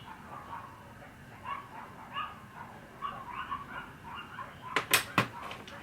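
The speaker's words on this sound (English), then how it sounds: "Of course the dogs are gonna start barking when I'm recording." Dogs whimper and yip in the background, then bark loudly two or three times near the end, fairly close over a quiet room.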